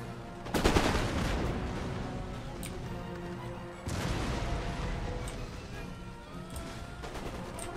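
Musket volleys and cannon fire boom in a battle in the video game Empire: Total War, with loud overlapping bursts at the start and again midway over a steady din of distant shots.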